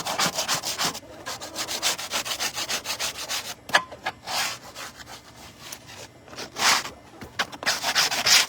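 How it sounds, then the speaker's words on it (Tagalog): Scrubbing while cleaning animal droppings from a pen, a steady rough brushing that repeats in quick strokes, close and fairly loud, with brief pauses and a few sharper scraping bursts. "Kuskus!"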